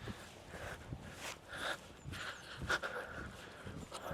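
Travis, a reactive dog, pants close by in a steady run of breathy rasps, with a few louder snorting breaths and faint shuffling movement underneath.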